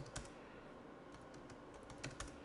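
Keys clatter on a computer keyboard while text is entered into a table cell in Mozilla Composer, a quiet close sequence of separate taps with a few louder strokes near the start and end.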